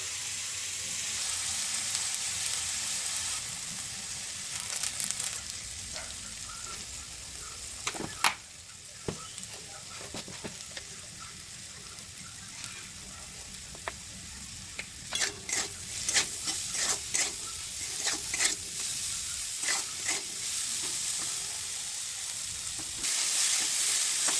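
Steady sizzling and frying of rice in a hot pan, broken by repeated scraping clicks of a utensil stirring the food.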